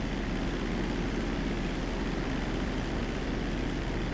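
A propeller plane flying in GTA V gives off a dense, unbroken engine drone, loud and steady with no other sounds over it.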